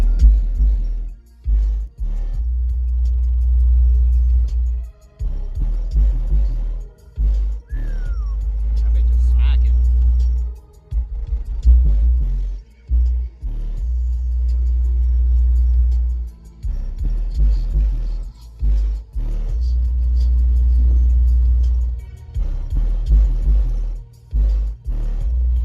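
A 20 Hz bass track pumps through double CT Sounds Tropo 10-inch subwoofers in a prefab box driven by a CT Sounds 1500.1 amp, a heavy sustained low rumble that pulses with brief dropouts while people talk over it.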